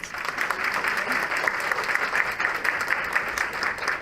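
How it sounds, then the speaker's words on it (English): Audience at a talk giving a round of applause, a steady, evenly sustained clapping from a crowd throughout. "Let's give her another round of applause."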